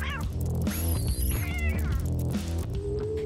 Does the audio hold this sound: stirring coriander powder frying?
no